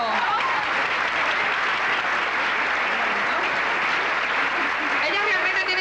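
An audience breaks into dense, sustained applause that holds loud and even for several seconds, with scattered crowd voices mixed in.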